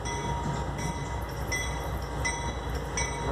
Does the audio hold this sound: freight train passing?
yes